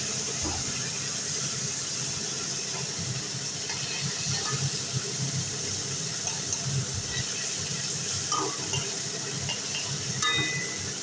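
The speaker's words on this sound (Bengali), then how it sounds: "দেখো মাছগুলো ভাজছি" Steady hissing sizzle of small fish frying in oil fills the whole stretch, constant and close, with occasional faint crackles and pops.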